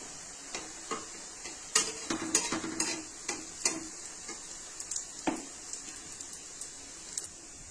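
Chhena koftas fry quietly in a pan under a soft sizzle, interrupted by a series of sharp clicks and scrapes from a utensil turning them.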